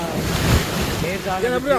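Ocean waves and wind sweep along a fishermen's shore, a loud rushing surge with gusting wind buffeting the microphone, while someone talks over it.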